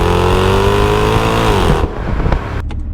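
A Jaguar XKR with a supercharged V8 accelerates hard, its loud, close engine note climbing steadily before the throttle lifts and the sound drops away with a few brief lighter noises.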